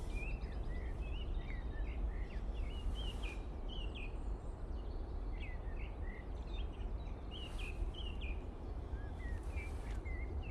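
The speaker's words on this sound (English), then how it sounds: "all I can hear is the birds in the background" Small birds chirp and trill intermittently in the distance over a steady low rumble of background noise at Manchester Airport during low-visibility operations, no talking.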